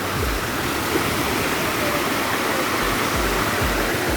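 Strong river current rushes steadily past a riverside cave, a loud, continuous broadband roar of churning water close by with no break across the few seconds.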